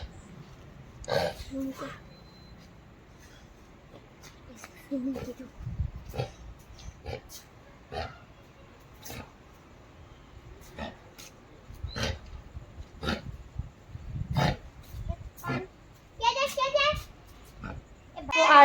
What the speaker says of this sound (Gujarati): અત્યારે આ ઉધરસ ખાય જ છે ટોમી